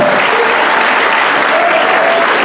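A large student audience at a university political rally breaks into loud, dense applause, a continuous wash of clapping that holds at full strength throughout.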